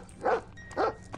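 Two short dog barks from a dog belonging to the evil doll in the horror video game Scary Child, each loud and close, separated by a brief pause.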